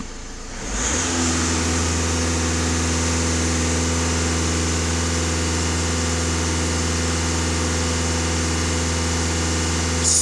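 A VW Passat B7 with a 2.0 TDI diesel engine starts up and then holds a steady raised idle at half throttle. The engine drone is close, loud and constant, with a low mechanical hum running the whole time and no talk.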